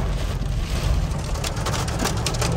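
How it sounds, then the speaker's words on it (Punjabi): Sudden heavy rain pours down in Haridwar, a dense, steady roar of water hitting surfaces, loud and continuous without a break. "ਮੀਂਹ ਵਾਲੀ ਤੇ ਹੱਦ ਹੀ ਹੋ ਗਈ ਹੈ ਇੱਕਦਮ ਹੀ ਆ ਗਿਆ"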